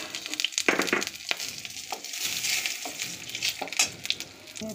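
Soybean chunks fry in hot oil for a palak soyabean dish, giving a steady close sizzle with scattered sharp crackles and pops throughout.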